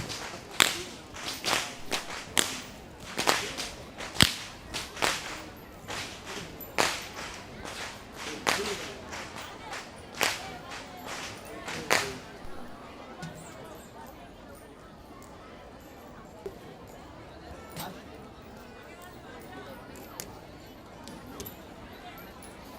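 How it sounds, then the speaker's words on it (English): Whip crackers open the Kandy Esala Perahera procession in Sri Lanka with a rapid string of loud, sharp cracks over an outdoor crowd. The cracks thin out to occasional distant snaps. "Walking up front with the sound of thundering whips piercing through the skies are the whip crackers announcing that the procession has commenced"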